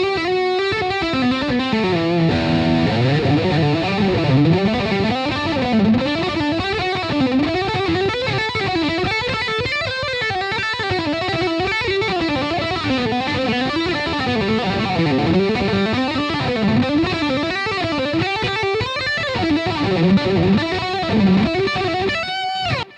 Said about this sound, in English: So if I'm now playing legato with the bridge pickup,